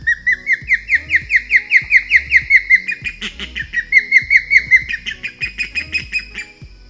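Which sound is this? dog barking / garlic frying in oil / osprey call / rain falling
osprey call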